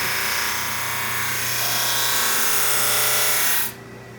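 SuperMax 25-50 drum sander making a light first pass on wood, a loud, steady close-up grinding whir with a rough sanding texture that holds for over three seconds, then cuts off abruptly to near silence.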